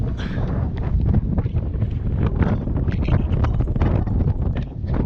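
Strong, steady wind roars across the microphone aboard a sailboat anchored in the lee of a marina wall as a front passes, a loud continuous buffeting rush with no talking.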